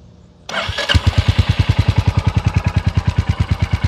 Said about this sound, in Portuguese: vamos ouvir então o ronco desse monocilíndrico subquadrado, ou seja, com um curso de pistão bem grande